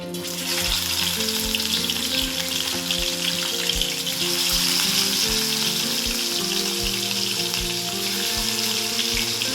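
Fish frying in oil in a home kitchen pan, a dense continuous crackle and spatter close by, with faint low thumps recurring steadily underneath.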